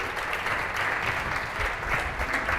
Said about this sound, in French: Sous vos applaudissements, right now and right here.